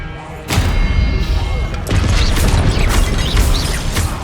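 Expelliarmus spell cast in the Hogwarts Legacy video game: a sudden loud magical burst with thumping impacts, followed by a dense, crashing, whooshing rumble of combat effects.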